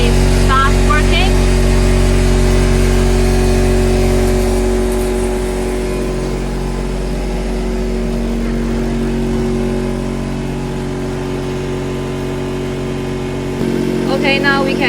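The compressor of a 50L perfume making machine runs with a steady mechanical hum and drone, settling into a lower, even tone partway through while speech is heard briefly at the start and end.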